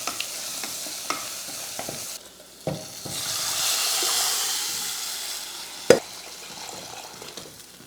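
Steady sizzle of chicken frying in oil with chilli and curry leaves hisses throughout, with a few sharp clicks and scrapes of stirring, one louder knock near the end; no voices.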